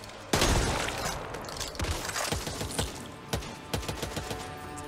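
Rapid SMG bursts in the zombie shooter Back 4 Blood, loud and close, with sharp repeated cracks and short pauses between volleys against a busy game backdrop.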